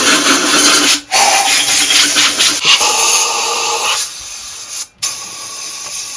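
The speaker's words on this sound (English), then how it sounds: "So we'll use this air hose and blow the dust and stuff off." A compressed-air hose hisses loudly in steady blasts, blowing dust and pine needles off a Subaru engine block during reassembly, with a few short breaks between bursts.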